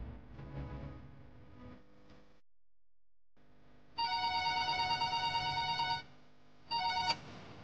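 A telephone rings in an indoor domestic setting, with two sustained electronic ring bursts separated by a short pause, preceded by a quieter stretch of background sound and a brief silence.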